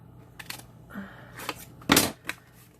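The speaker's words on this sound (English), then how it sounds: "I'm going to take some scissors" A few short crisp snips of scissors cutting paper, close by, with light paper rustling between cuts and no talking.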